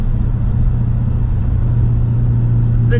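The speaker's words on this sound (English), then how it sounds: "Mustang obviously has an original sound, but this is stock, right?" Stock Ford Mustang with a Coyote engine and manual gearbox, a deep, steady idle-like rumble with a strong low drone, close and loud, ending in a brief higher chirp.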